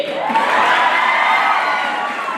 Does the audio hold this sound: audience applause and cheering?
yes